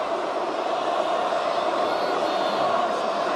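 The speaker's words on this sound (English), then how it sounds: "This crowd is electric tonight in Riyadh" A wrestling crowd of over 18,000 in a Riyadh arena at a King of the Ring finals event, cheering in a loud, sustained roar with no break or lull.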